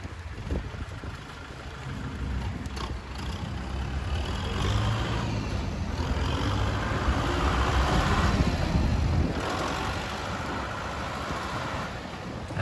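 Kubota M6040SU four-wheel-drive tractor with a dozer blade running through its gears, a steady diesel engine rumble that swells and eases as gears change, close and continuous.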